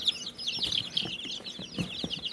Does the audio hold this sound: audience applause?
no